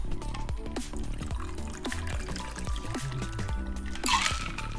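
A cocktail mix of mandarin, pumpkin and cempasuchil flower is poured into a martini glass, a continuous close liquid trickle with small splashy ticks and bubbling, building slightly toward the end, with no talking.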